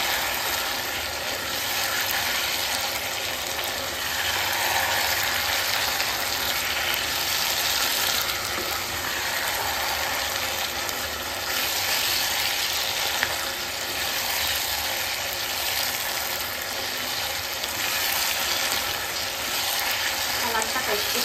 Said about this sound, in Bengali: একটু ভালো করে চিকেনগুলোর সঙ্গে মশলাটাকে কষে নিই।